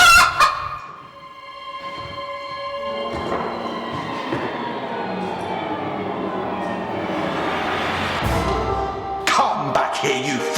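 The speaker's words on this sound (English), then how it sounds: "the hen cackled so loudly that it awoke the giant" A hen cackling loudly during a Bunraku puppet performance of Jack and the Beanstalk, a series of harsh, honking squawks, loud and close, ringing on without talking.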